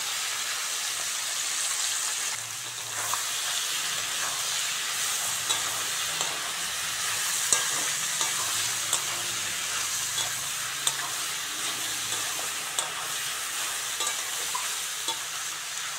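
Prawns frying with taro stolons in a pan, a steady close sizzle and crackle with occasional light spatula taps and stirring scrapes over sixteen seconds.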